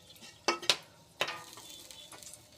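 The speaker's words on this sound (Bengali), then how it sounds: "এখন আমি তেলে তেজপাতা, লবঙ্গ, দারচিনি, এলাচ দিচ্ছি। হালকা করে একটু নাড়বো" Bay leaf, cloves, cinnamon and cardamom are stirred in hot oil in a pan, giving a few sharp spoon scrapes and clinks over a faint, low sizzle, close and fairly quiet.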